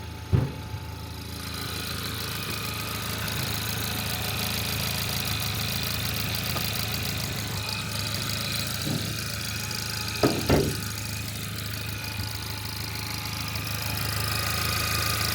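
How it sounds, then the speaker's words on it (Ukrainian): A car engine idles evenly with a steady low rumble and hum, close up, broken only by a couple of brief clunks. "Мотор працює рівненько."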